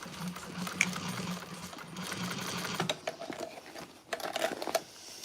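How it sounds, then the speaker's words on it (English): A sewing machine stitches over existing seam lines on a handbag, its rapid mechanical whir running steadily up close, pausing briefly near the middle before resuming in shorter bursts. "I'm just stitching over top of that same stitching"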